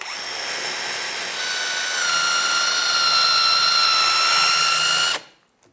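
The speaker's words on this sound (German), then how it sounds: "Wir fangen erstmal hier an zu bohren." A Forstner bit in a power drill bores into wood with a loud sustained whine that deepens slightly as it cuts for about five seconds, then the motor stops abruptly, close up with no talking.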